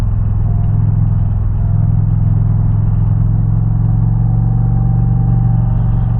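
Indian Challenger motorcycle engine and exhaust on a curvy scenic road near Bear Mountain and the Hudson River, a loud, steady, deep rumble that holds constant while riding, with no talking.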